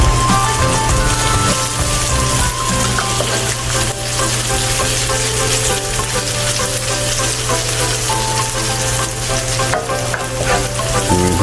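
Spare ribs and the white part of green spring onion fry in a hot pan, giving a steady, loud, dense sizzle with soft stirring scrapes that runs the whole time and is not interrupted by talk.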